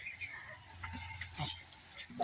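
Mustard flower and coriander leaf fritters frying in a hot kadai give off a steady, close sizzling hiss with faint crackles throughout.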